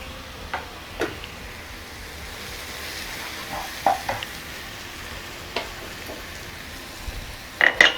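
Onion egg fry masala with coriander powder and curry leaves sizzles softly in a pan. Quiet, steady frying runs under scattered spoon taps and stirring clicks, with a louder scrape near the end and no voices.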